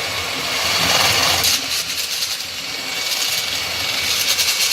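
A mini pipe cleaning machine spins at high speed inside a plumbing pan connector, giving a loud, steady broadband whirring drone that holds throughout with no voices.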